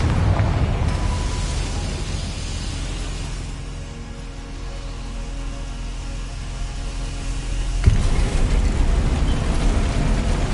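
Confringo fire spell explosion in Hogwarts Legacy: a loud roaring blast that dies into a steady rumbling hum, then a sharp second burst near the end erupts into sustained roaring noise, no voices.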